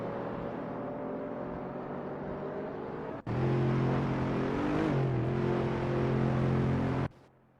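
AI-driven supercars racing at Zolder in a racing simulator game, a steady engine drone that cuts to a louder, higher revving tone midway, with gear-like pitch shifts before stopping abruptly.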